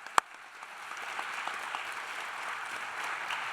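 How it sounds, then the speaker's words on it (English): At a teacher of the year awards ceremony, an audience applauds the school district and its teachers: soft, distant, steady clapping after one sharp close bang. "So a round of applause for the school district and all the teachers."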